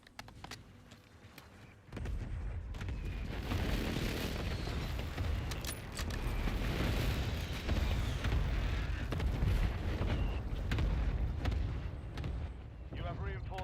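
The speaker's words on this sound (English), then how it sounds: "Enemy precision airstrike." Enemy precision airstrike in a first-person shooter game: after a quiet opening, heavy booming explosions break in and pound on as a continuous loud, rumbling barrage for over ten seconds.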